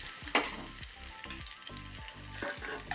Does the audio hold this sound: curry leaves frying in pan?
yes